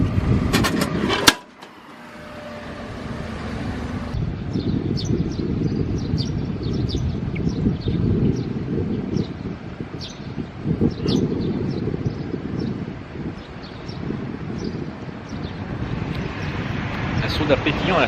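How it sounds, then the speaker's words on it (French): A gentle outdoor breeze rustles steadily throughout in Sawara, Japan, with faint bird chirps and occasional passing movement in the background; a voice is briefly audible. "comme vous pouvez l'entendre, je pense, il y a un petit vent aujourd'hui"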